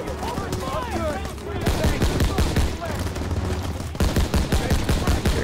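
Rapid volleys of rifle and machine-gun fire from a World War II shooter game, Call of Duty WW2, crack loudly in dense bursts with brief lulls, while voices can be heard beneath the shooting.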